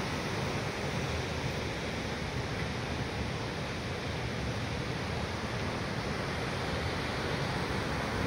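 Jōren Falls on the Izu peninsula roars as a steady, dense wash of falling water, loud and unbroken from start to finish with no voices.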